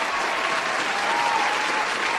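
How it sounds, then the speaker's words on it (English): A crowd applauds after a music track at a streamed awards show, a thick, even wash of clapping that stays level and continuous throughout, with a faint tone running under it midway. "Round of applause for that masterful track."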